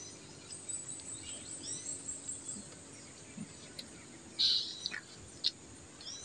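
Faint, scattered bird chirps in the distance against a steady outdoor hiss of insects, with a couple of sharper calls near the end.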